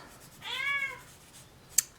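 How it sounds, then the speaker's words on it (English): Cat meowing indoors: one short, faint, plaintive meow from a few metres away, followed by a brief click, with otherwise quiet surroundings. "It's a very sad kitty cat over there."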